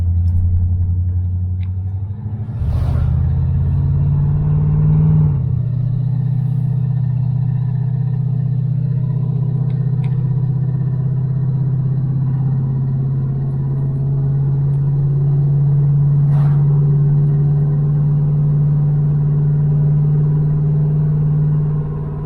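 A 1978 Dodge Aspen R/T cruises down the road, its steady low engine drone and road rumble heard from inside the car, with a brief knock early on and no talking.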